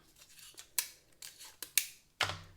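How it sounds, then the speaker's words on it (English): Scissors cutting small paper shapes for the front of a handmade card, a series of crisp snips with short pauses between them, close and fairly quiet. "I'm going to cut my little shapes."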